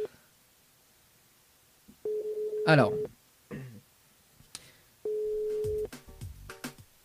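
A telephone ringback tone sounds twice on a radio morning show while a listener's mobile is being called, two steady beeps about a second long with a gap, and brief talk and studio noise between them.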